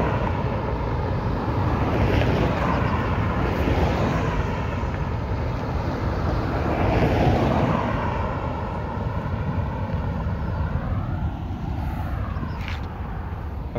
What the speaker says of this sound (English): Virgin Atlantic plane now taking off.